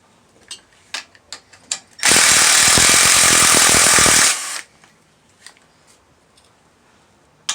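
A power tool rattles for about two seconds, loud and close, while removing a 14mm bolt from a Subaru WRX engine block during head gasket work. Scattered clicks and clinks of handled parts come before and after, and no one speaks.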